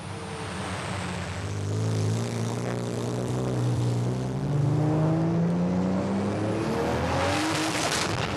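A powerful sports car engine revs and climbs in pitch as it accelerates through narrow streets in Dubai, loud and steady, with a brief higher whine near the end.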